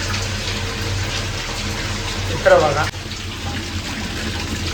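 Water pouring steadily from an overflowing household water tank, a constant rushing gush that fills the scene, with a brief burst of a nearby voice speaking over it partway through.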